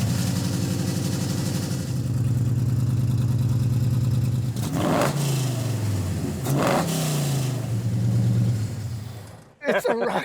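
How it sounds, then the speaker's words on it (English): A 1974 MG BGT fitted with a Roush-tuned 5-liter Ford Coyote V8 idles loudly at a car show, then revs up twice in rising and falling sweeps before settling, close by with voices nearby. "1974 MG BGT with a 5-liter Roush in it."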